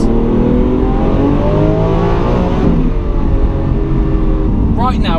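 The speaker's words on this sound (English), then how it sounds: "The downshifts are beautiful." A Lamborghini V12 supercar engine droning steadily with rising and falling pitch through downshifts, loud and close from inside the car, with people talking over it.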